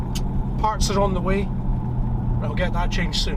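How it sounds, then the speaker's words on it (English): A Jaguar XJ-S V12 with a blown exhaust seal ring gives a steady low chugging drone that runs under someone talking close by. "I'll have to ask you to excuse the sort of chugging exhaust noise."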